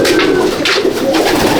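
Pigeons coo in a loft in Akra, Kolkata, a soft repeated throaty murmur that rises and falls in several phrases over a steady low hum, close and moderately loud with no talking.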